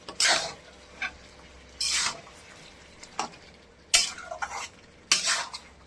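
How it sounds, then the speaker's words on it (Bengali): A spoon scrapes and stirs mutton being sautéed in a pot, with several separate bursts of metallic scraping between quieter gaps and a faint sizzle underneath, heard close up with no one talking. "মাংস কষানো চলছে আমাদের। করে কষাতে থাকবো নেড়ে চেড়ে।"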